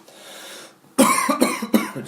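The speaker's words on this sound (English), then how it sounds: "Just clear my throat." A person clears their throat close to the microphone in three harsh, rasping bursts that follow a brief quiet hiss.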